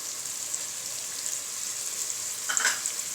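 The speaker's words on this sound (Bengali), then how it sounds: "এখন মশলাটাকে একটু ভালোভাবে ভুনতে হবে।" Chili and turmeric powder sizzle in hot oil as masala for a hilsa and baby taro curry, a steady soft frying hiss with a brief brighter crackle near the end, no speech.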